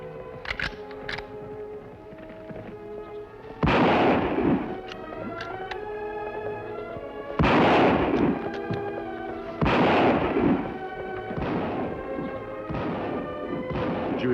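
Gunfire in an old Western radio-style drama: several loud, sharp shots spaced out over the stretch, each ringing into a long echoing tail, with music playing underneath and no talking.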